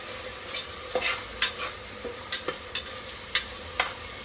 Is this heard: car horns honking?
no